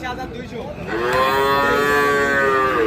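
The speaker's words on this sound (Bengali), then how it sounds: "এটা একটা বকনা বাছুর" A young heifer calf, about three to three and a half months old, at a cattle market gives one long, loud, close moo that rises and holds for nearly two seconds after a brief lead-in of background noise.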